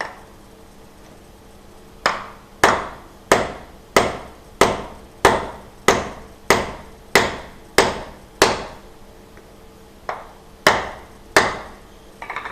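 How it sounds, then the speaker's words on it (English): A hollow hammer drives a metal wedge into the wooden handle of a forged Francisca axe. About fifteen sharp, ringing strikes land at a steady pace, with a short pause near the end, close and loud. "And I need a ball peen, or I need a hollow hammer."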